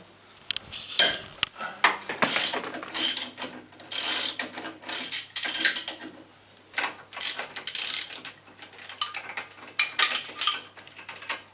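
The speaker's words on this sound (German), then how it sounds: "da müssen wir hier die Verschraubung am Dreieckslenker aufmachen" Ratchet wrench clicking in bursts while loosening the three bolts on the control arm of a VW Passat 35i during a drive-shaft boot change, close and fairly loud with short pauses between runs.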